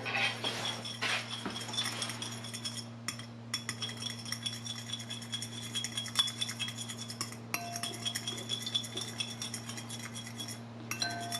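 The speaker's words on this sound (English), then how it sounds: "then after that we're gonna go and mix the eggs together" A utensil whisks eggs together in a bowl, rapid irregular clinking and tapping against the sides with short pauses, close but moderate, over a steady low electrical hum, with no talking.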